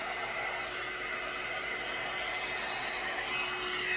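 A one-step hair dryer brush blows steadily, a close, loud and even hiss of airflow with a faint motor whine running through the whole stretch, without any talking.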